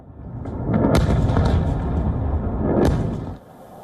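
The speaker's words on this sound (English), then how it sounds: "The explosions are heard from miles away." Heavy, booming missile explosions at night during the Russia-Ukraine war roll in, two louder blasts standing out amid a dense, rumbling roar that fades near the end.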